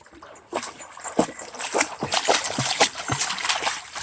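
A dog splashes and wades through a shallow stream, giving a run of close, irregular watery splashes and sloshes that rise and fall over a few seconds, with no talking.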